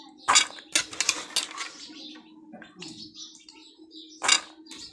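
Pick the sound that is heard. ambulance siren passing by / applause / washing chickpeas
washing chickpeas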